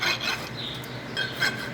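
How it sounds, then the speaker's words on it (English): A farrier's rasp files a horse's hoof after shoeing, giving a few close, gritty rasping strokes with short pauses between them. "she'll take her rasp and she'll smooth that a little bit more"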